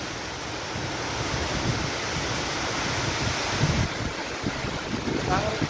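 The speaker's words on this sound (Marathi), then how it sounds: "आणि पाऊस पण बारीक बारीक येतोय" Steady roar of strong wind buffeting the microphone, with a broad wash of light rain hiss throughout and a few rustling gusts near the end.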